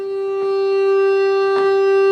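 A Roland FR4X digital accordion sounds a steady, unwavering bassoon reed note an octave up. The note is loud, sustained and constant, with a couple of faint clicks over it.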